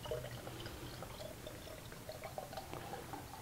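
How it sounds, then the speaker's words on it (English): Alcohol is poured through a funnel in a guitar workshop while a Martin 00 style acoustic guitar is being built, giving a faint, steady liquid trickle and gurgle up close. "Pop open our alcohol and dump that in"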